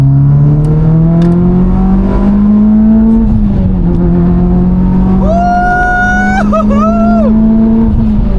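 A car at a cars and coffee meet pulls away under hard acceleration, one loud sustained engine drone climbing steadily through a gear change while onlookers cheer and shout nearby.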